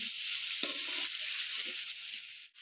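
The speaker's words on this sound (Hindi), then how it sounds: "गोश्त को अच्छी तरह से भूनेंगे ताकि गोश्त का कलर जो है वो चेंज हो जाए" Meat being browned and stirred in a pot for chicken pulao, giving a steady, loud sizzle of hot oil with a few scraping stirs of a spoon mixed in, and no talking.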